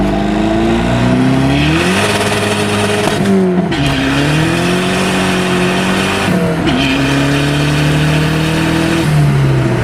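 An old Dodge Neon pulls away hard in first gear, the engine note loud and close as it rises, drops at each shift, then climbs again, with strained revving and a hint of tire noise.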